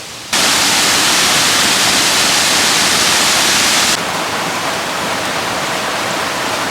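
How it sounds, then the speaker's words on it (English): A steady, loud rush of a fairly low-flowing waterfall, continuous and unbroken, with the hiss softening slightly partway through. "the waterfall is pretty dry"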